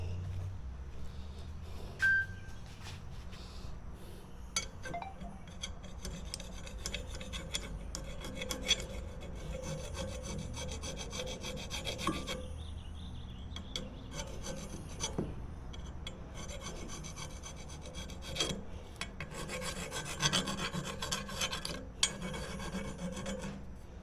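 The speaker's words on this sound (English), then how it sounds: "Okay, got it filed down." Rasping file working a metal part of a Briggs and Stratton 8HP recoil starter during a clutch-to-pawl conversion, steady back-and-forth strokes continuing close up and alone for the whole stretch.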